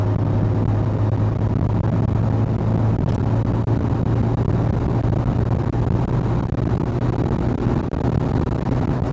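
Rebuilt Nissan SR20 engine held around 4,000 RPM under partial throttle load during break-in, a loud, steady droning hum with a constant tone and no talking.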